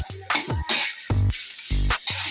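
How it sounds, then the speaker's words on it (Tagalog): Banana pith sisig being sautéed in a pan gives a bright, close sizzle that comes in repeated bursts, broken by short clinks and scrapes of a utensil against the pan. "Yan, kailangan lang natin ng igisa."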